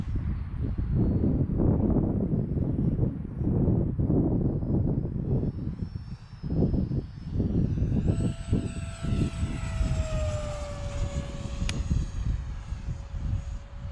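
Freewing Yak 130 RC jet with a 70mm electric ducted fan flying overhead, a steady loud whine that rises and falls in pitch as it passes, continuous over wind and outdoor noise.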